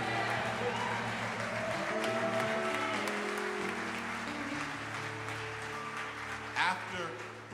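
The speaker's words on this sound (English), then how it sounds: "let's give God a great big hand clap of praise" A church congregation claps hands in praise during a Passover musical celebration, a steady wash of applause mixed with music and voices throughout.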